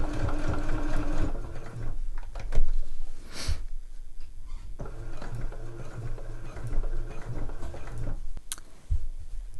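A sewing machine stitching a zip pouch runs in steady rapid bursts, pausing briefly between runs, with a close mechanical whir and fine ticking, plus a few sharp clicks and handling noises.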